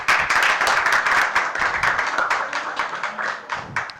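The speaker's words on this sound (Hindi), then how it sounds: "जरा ताली बजा दो भाई लोग" An indoor audience applauds at a magazine release ceremony, a dense burst of hand clapping that starts strong and gradually thins out over a few seconds, with no voices over it.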